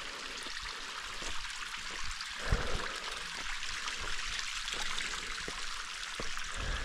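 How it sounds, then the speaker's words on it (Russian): Water trickles steadily from a small waterfall in a desert, a continuous close splashing with a slightly louder splash about midway, with no voices. "И вот там прям вообще чуть ли не водопадик."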